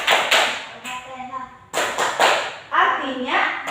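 Sharp hand claps in a steady rhythm punctuate a sung chant of Tepuk Al-Fatihah in a classroom Islamic education lesson at an inclusive school. The voices stay loud and close between the claps.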